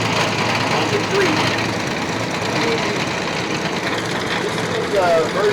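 A TYM T574 tractor engine runs steadily while tilling virgin soil in a garden, a continuous knocking diesel chug close by with a voice speaking over it.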